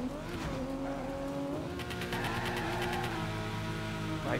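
Car engine in the Torque Drift racing game straining and bogging in fourth gear, a steady droning rev held low and loud throughout, with a brief tire squeal near the end.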